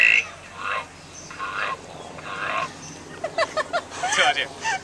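A frog at a zoo croaks in a few short bursts after people talk, with the croaks clustering in a quick run near the end.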